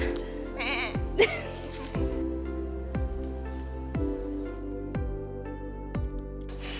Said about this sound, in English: We found a sheep.